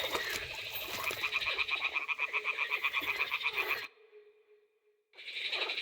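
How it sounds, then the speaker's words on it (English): Toads croak in a Kingdom Come: Deliverance II game scene, a dense run of rapid rhythmic pulses that stops abruptly, leaves a moment of near silence, then starts up again. "The toads are croaking here."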